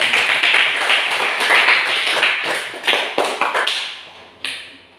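Classroom applause for the groups' work: a dense wash of many hands clapping for several seconds, thinning toward the end into a few separate louder claps and a final single clap before fading out.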